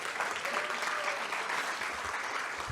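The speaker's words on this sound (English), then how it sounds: "Please give him a round of applause." Applause from an audience welcoming a speaker at an academic event, a soft, steady patter of many hands clapping that carries evenly from start to finish.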